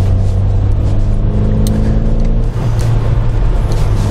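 Steady engine hum and road noise from inside a car driving through busy city traffic, a continuous low drone with slight swells of acceleration throughout.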